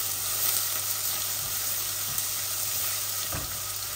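Onions dropped into hot oil with cumin, fenugreek, cinnamon, bay leaf and reddened garlic, frying with a steady, dense sizzle that stays loud and constant throughout, with a few faint stirring clinks and no voices.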